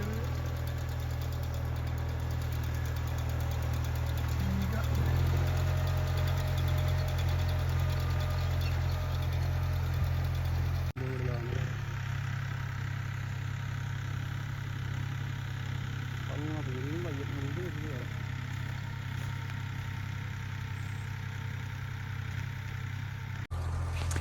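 A farm tractor engine in second high gear, run at about 1000 revolutions, drones steadily with a low, even rumble throughout while people talk over it.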